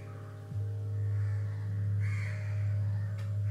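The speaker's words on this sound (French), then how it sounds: "Les sons des oiseaux vont et viennent. Ils sont parfois gais, parfois criards" Crows calling in a park, their caws faint and somewhat distant over a steady low hum that runs throughout.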